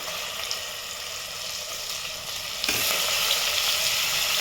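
Onion paste with spices sizzling in a pan over a low gas flame for a matar paneer curry, a dense, steady hiss heard close up that grows slightly louder partway through, with no voices.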